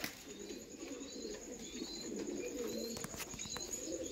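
A breeding pair of heavy booted fantail pigeons coos softly and repeatedly at a distance, the low calls faint against a quiet background.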